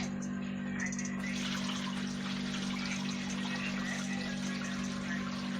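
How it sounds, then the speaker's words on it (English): Steady running water from a tap while rice is washed, a continuous broadband wash with a constant low hum underneath, fairly close and unbroken throughout. "I have to wash the rice"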